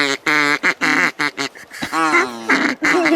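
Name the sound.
duck call blown to imitate duck quacks, duck hunting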